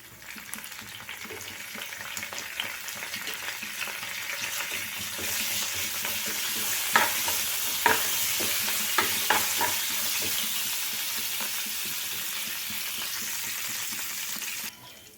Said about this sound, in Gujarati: વઘાર હાંડવાના ખીરામાં એડ કરી દઈશું